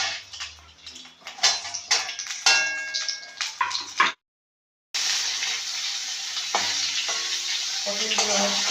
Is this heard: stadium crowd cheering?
no